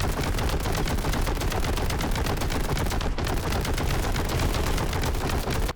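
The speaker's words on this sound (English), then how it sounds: "Heavy bolter." Heavy bolter fire from Warhammer 40k Boltgun hammers out as a loud, rapid, continuous stream of machine-gun shots with a steady rhythm, almost unbroken for several seconds, with no voices over it.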